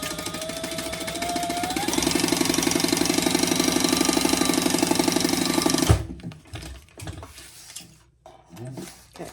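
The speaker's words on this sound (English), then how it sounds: "I am going to go ahead and stitch across the top before I add my trim on" A sewing machine runs steadily for about six seconds, stitching across the top of a crossbody bag with a fast, even mechanical chatter. It then stops, leaving quiet handling noises.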